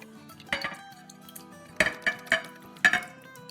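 Clinks and scrapes of a spoon against a serving dish while a creamy milk dessert is layered in for Bakra Eid, a soft tap followed by a quick rhythmic series of four or five louder chinks, no talking.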